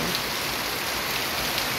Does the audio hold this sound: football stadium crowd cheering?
no